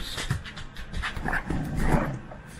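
A dog pants rapidly and steadily at close range, with faint whimpering mixed in and no talking over it.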